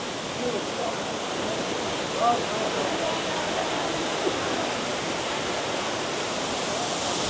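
Waterfall beside the mountain road to Kedarnath, a loud, steady rushing roar of falling water filling the whole stretch, with a few brief faint voices in the background.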